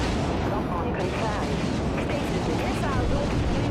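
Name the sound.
light missiles firing in the video game Dreadnought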